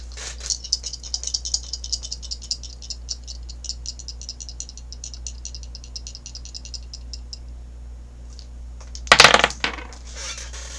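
Astrology dice tumble and rattle steadily for several seconds, followed by a sharp clatter as they land, with no talking.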